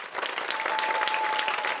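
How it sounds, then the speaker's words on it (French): An audience in Lagos, Nigeria claps together in steady, dense applause that stays loud and even from start to finish. "Applaudissez tous ensemble."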